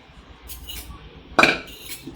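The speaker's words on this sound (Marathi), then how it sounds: "आता आपण एक कढई घेऊ" A metal kadhai is picked up and set down, making one sharp, close metallic clank amid quiet handling noise.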